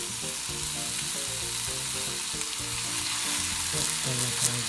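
Tomato meat rolls sizzle and crackle steadily in a hot pan, a constant close frying hiss with no talking.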